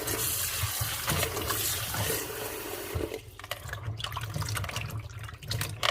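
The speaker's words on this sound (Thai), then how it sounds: "ล้างน้ำกันก่อน" Freshly picked cherries are washed under running water, a steady close rush of water with splashing and dripping as the fruit is moved about in the stream.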